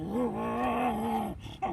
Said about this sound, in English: my dog's growling at the dog going by